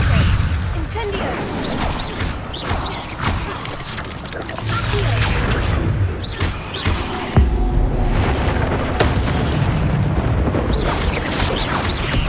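Incendio fire spell exploding in the Hogwarts Legacy video game, dense booming blasts and crackling bursts repeating throughout amid continuous loud game action and effects.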